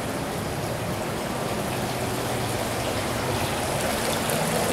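Garden water fountains running in a large store, a steady close hiss of splashing and trickling water that holds at an even level throughout, with no voices.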